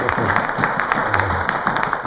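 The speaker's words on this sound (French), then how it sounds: "Je voudrais demander qu'on vous applaudisse pour ce gros projet." An audience claps at a café event for a project, with a steady patter of applause from a modest crowd, a voice speaking faintly underneath.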